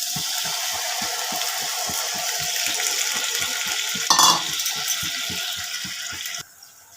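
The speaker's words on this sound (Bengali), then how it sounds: "এবারে দিয়ে দিচ্ছি ফেটিয়ে রাখা টক দই।" Whisked sour yogurt goes into a pan of sizzling chicken, giving a loud continuous fizz and bubbling with a quick rhythmic ticking underneath, a brief sharper splash near the end, then a sudden drop in level.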